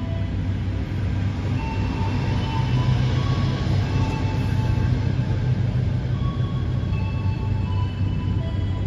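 A train rumbles at an Indonesian railway station with a steady, dense low roar and faint high squeals and rattles, continuous and fairly loud throughout.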